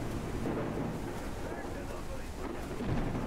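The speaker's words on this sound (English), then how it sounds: "Dark and stormy night." A video-game thunderstorm in Forgive Me Father rumbles low and constant, with rain and wind noise filling the background at a moderate, distant level.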